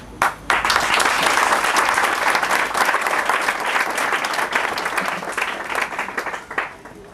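Audience applause at a customary wedding ceremony, loud and sustained for about seven seconds, steady dense clapping from a close crowd that tapers slightly near the end.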